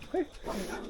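Buddy, a small dog, gives a single short high yip near the start, followed by a brief rougher scuffling sound outdoors.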